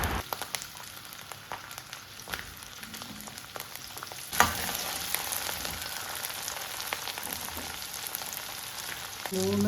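Onion, garlic and ginger frying in coconut oil for a chickpea curry, a soft steady crackling sizzle close by with a few stirring knocks, alone without speech.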